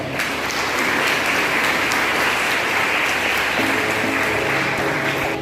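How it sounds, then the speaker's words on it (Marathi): Loud, sustained applause from an audience at a school annual prize-distribution ceremony, steady dense clapping filling the whole stretch. "सर्वांनी या विद्यार्थ्यांचं जोरदार टाळ्या वाजवून एकदा अभिनंदन करावं."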